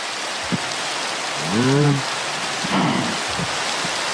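Steady rain hiss fills the scene, with a couple of brief low rumbles and tonal bursts rising over it at moderate volume.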